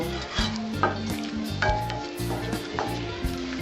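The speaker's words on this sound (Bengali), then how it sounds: "এবার আর ঢাকা দেবো না, আমি জলটা এমনি টানিয়ে নেবো নেড়ে নেড়ে" Small chuno fish curry cooks uncovered in a pan to reduce its water, a continuous loud sizzle with repeated stirring strokes and scrapes at a steady rhythm, close up and without talk.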